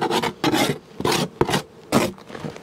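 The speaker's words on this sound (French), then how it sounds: "Là, je gratte un peu pour pas que ça les écrase." Rough scraping and rasping strokes on a wooden beehive frame, several bursts in an uneven rhythm, close up with no talking.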